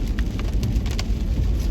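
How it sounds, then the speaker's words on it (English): Steady rain patters on a car during a morning drive, a dense, even hiss with scattered sharper drops striking the roof and glass, constant and fairly loud throughout. "It's raining here, so hopefully the rain won't be too loud on the video."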